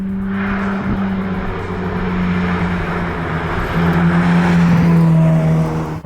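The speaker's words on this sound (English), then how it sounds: "today we're driving the 2021 Ferrari F8 Tributo" A 2021 Ferrari F8 Tributo with a 3.9-liter twin-turbocharged V8 drives along, its engine droning loudly and steadily with rising and falling tones as it pulls, heard close and alone.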